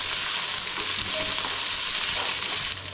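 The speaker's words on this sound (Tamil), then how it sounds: "இப்போ வெங்காயத்தை கூட சேர்த்து நல்லா வதக்கிடலாம்" Onions sauté in hot oil in a pan for a chutney, giving a dense, continuous crackling sizzle with light stirring scrapes. The sound drops slightly in level near the end, and no one speaks.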